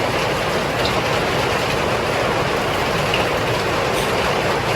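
Steady rain falls outdoors during a Thai green curry chicken cook, a dense, even hiss filling the whole clip with no voices over it.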